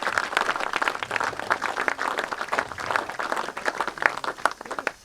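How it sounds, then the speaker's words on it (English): Applause from a crowd at a steam locomotive launch on a heritage railway, many hands clapping steadily at moderate volume, with no voices on top. "a round of applause for everyone who has made this possible today."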